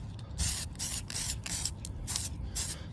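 Aerosol can spraying quick coats of silver paint outdoors over grass, a series of close, loud hissing bursts with short gaps between them.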